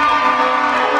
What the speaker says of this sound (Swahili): Mpigieni makofi rais wetu.